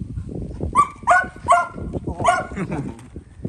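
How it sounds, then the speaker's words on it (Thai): A dog barks several times in a quick, uneven series of sharp yips and barks, fairly close, outdoors during a traditional Thai kite test in wind and rain, with someone talking nearby. "เห่ามาจริงๆเลยครับอ่ะ"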